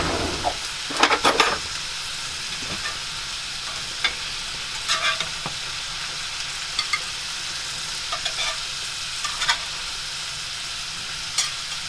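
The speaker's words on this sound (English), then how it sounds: "So I've taken my eggs and I stir them all up" Three beaten eggs are stirred in a hot frying pan, a steady close sizzle running throughout with scattered scraping taps of a utensil against the pan and no talk.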